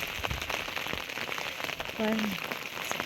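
Monsoon rain falls steadily in Valparai as a dense, close hiss of drops on surfaces, with a person briefly speaking over it.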